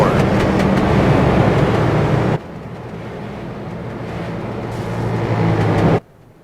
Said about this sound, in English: As we take a look across the field into turn number 3 goes that pace car